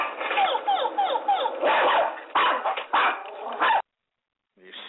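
Small toy dogs bark and yip rapidly in a dense overlapping burst, sharp and close, then break off abruptly into silence before a faint yelp returns at the end.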